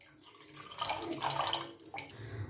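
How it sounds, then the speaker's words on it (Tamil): Thin, watery buttermilk porridge batter (mor koozh) poured from a height into a pan, giving a steady splashing liquid stream that swells in the middle and tapers off, close and fairly quiet, with no talking. "இப்படி தூக்கி ஊற்றினீங்கன்னா இப்படி இப்படி தண்ணியாக நீர்க்க வருது பாருங்க"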